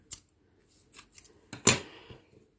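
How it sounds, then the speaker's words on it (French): Scissors snip through a length of crochet yarn in a few quick, crisp cuts, close and clear against a quiet room, the last cut loudest. "je vais couper une bonne longueur pour coudre avec"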